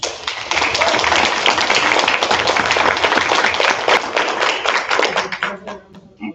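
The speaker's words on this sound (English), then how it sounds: "I want to give a round of applause to our coach, Gonzalez." A school board meeting audience breaks into loud, dense applause and cheering for district champion high school volleyball players, sustained for several seconds before tapering off, with voices mixed in.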